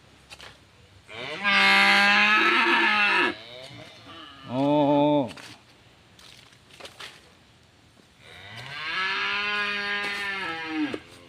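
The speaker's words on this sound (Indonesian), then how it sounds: "Ada sapi warga ya." Cows moo loudly and nearby in a rural village, two long drawn-out calls with a shorter low moo between, separated by quiet outdoor pauses.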